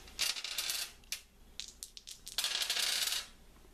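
Two dice rolled during a game of Betrayal at House on the Hill clatter and rattle across a hard surface in several quick bursts, close and fairly crisp, with no voices.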